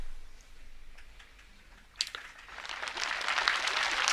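An audience at a spiritual satsang discourse breaks into applause, a dense burst of clapping that starts abruptly partway through and swells to fill the rest of the moment after a quieter stretch.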